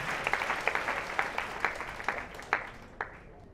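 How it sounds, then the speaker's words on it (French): Scattered applause from an audience at a fashion show as a candidate departs, with distinct individual claps standing out over a softer background of clapping that thins and fades by the end. "on va l'accompagner avec des applaudissements pour récupérer ses histoires"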